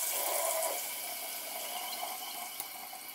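Water running from an opened household faucet to relieve pressure after the main supply is shut off, a steady hissing flow, fairly faint and continuous, easing slightly after the first moment, with no one talking.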